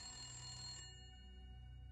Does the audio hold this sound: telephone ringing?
yes